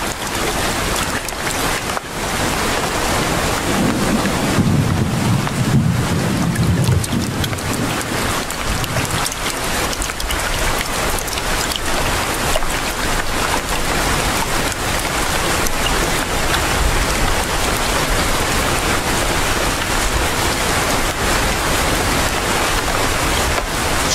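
Heavy rain pours into a swampy hollow where carnivorous plants grow, a dense, steady hiss that keeps the same loudness throughout, with a brief low rumble early on and no voices.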